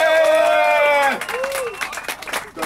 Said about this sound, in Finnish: Et siitäkin voi antaa pienet aplodit kyllä.